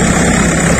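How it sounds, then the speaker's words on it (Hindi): A Swaraj 855 tractor drives an 8 ft Landforce rotavator through field soil, giving a loud, steady, close engine drone with a broad grinding churn and no pauses. "भाइयों, ये देखो लैंड फोर्स का 8 फीट का रूटर है।"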